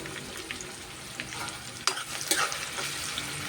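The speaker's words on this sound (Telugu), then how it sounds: "కొంచెం ఫ్రై అవనిద్దాం బాగా." Sliced onions frying in a pan for a bottle gourd curry, a soft continuous sizzle with occasional light stirring clinks, fairly quiet and without speech.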